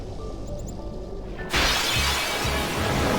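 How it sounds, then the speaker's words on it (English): Final Fantasy X battle transition: soft ambient tones give way to a sudden bright glassy shattering burst about halfway through, followed by a loud sustained crash and low thuds. "I kind of like the screen shattering effect when you get into a battle."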